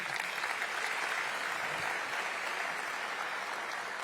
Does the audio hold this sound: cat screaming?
no